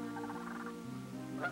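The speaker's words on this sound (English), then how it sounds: "the geese mingle with the ducklings of early summer, now full grown, and joined by the sandhill cranes" Faint birdsong-like calls and croaky, honking tones from geese and sandhill cranes drift across a prairie marsh, distant and layered over a low steady background.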